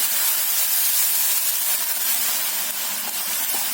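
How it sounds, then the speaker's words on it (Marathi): Water poured into a hot iron kadhai with turmeric and asafoetida frying in it gives a loud, steady steam hiss that fills the whole stretch without pause. "हे थोडंसं परतलं गेल्या गेल्या त्यामध्ये आपण एक पेला पाणी घालायचं"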